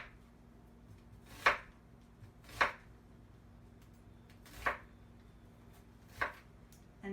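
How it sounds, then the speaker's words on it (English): A kitchen knife chops through an onion on a cutting board, four separate sharp thuds spaced unevenly over a quiet background with a faint low hum. "And then I'm going to make it chopped by going back the other direction"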